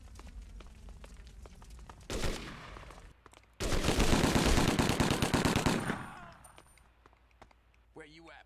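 Automatic gunfire in 25 To Life, a short burst followed by a longer, loud sustained volley of rapid shots that cuts off, with a voice briefly at the end.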